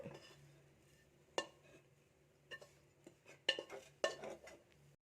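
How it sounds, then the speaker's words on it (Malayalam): Food is moved onto a plate in a home kitchen, with sparse, close metallic clinks and scrapes of a utensil against the plate and pan, separated by quiet pauses, and no talking. "ഈ പ്ലേറ്റിലോട്ട് അങ്ങനെ ഇട്ട് കൊടുക്കുകയാണ്"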